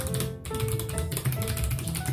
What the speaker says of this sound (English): I'm just playing a game on my mechanical keyboard.